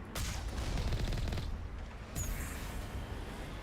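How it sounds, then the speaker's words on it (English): Geth turrets fire in the Mass Effect video game as a faint, distant rattle of rapid gunfire, with a dull boom partway through. "I believe those are Geth turrets."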